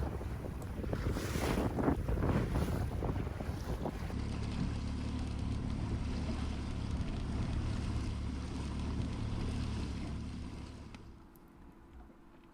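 Wind gusts across a choppy lake while someone sits fishing from a boat in about three feet of water. Heavy buffeting roars into the microphone with water sloshing underneath, then the rushing noise eases and fades away near the end.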